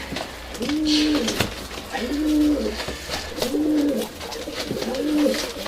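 Urfa Arab pigeons coo in a loft in a steady repeating rhythm, about four low rolling calls in close succession, with faint wing flutters and handling noise around them.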